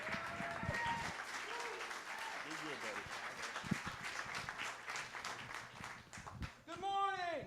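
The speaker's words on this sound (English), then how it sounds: "Would you give a warm round of applause to our own Howard Brown?" Applause fills a church, dense and sustained for several seconds, with a voice speaking over the clapping near the end.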